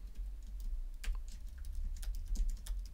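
Faint, quick keyboard typing on a computer, with light scattered key clicks over a low background hum, close but quiet and without talk.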